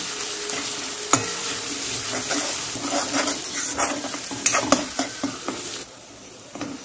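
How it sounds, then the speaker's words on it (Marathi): Onion, ginger and garlic paste frying and being stirred in a pan for mutton kheema masala, a constant sizzle broken by scraping spoon strokes that grow sharper toward the end before easing off. "आपण अद्रक लसूणला पण याच्यासोबत मस्त फ्राय करून घेऊ"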